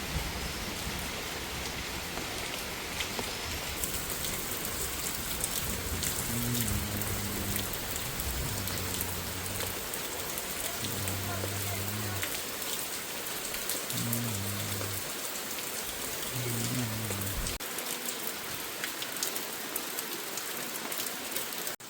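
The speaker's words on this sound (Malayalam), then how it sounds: "ഇപ്പം ഭയങ്കര മഴ, ഇടിവെട്ടി മഴ പെയ്യാണ്" Heavy rain pours down steadily during a thunderstorm in Goa, a dense unbroken hiss of drops on surfaces that continues throughout.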